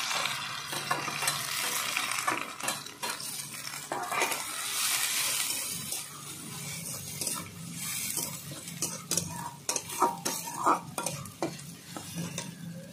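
Grated onion fries with garlic paste in a hot pan, a steady sizzle running throughout with scraping stirs and a few sharper clinks of the spoon against the pan.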